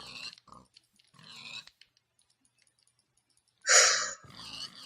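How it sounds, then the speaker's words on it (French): Pigs in the video game Minecraft grunt and oink in short nasal bursts, a few scattered calls with one louder squeal near the end, fairly close and clear. "Viens ici, il y a plein de cochons."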